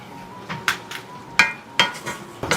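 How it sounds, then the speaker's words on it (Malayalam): A juicy sweet filling for rolled leaf ada is stirred in a pan, with irregular close clinks and scrapes of a spoon against the metal over a faint steady hum. "അപ്പോൾ അതൊന്ന് മിക്സ് ചെയ്തെടുക്കുക."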